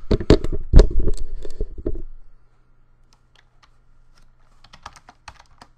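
A Koribo Leira multimedia keyboard gives a burst of quick, close typing clicks for about two seconds, then near silence, then a few soft, scattered keystrokes at the end.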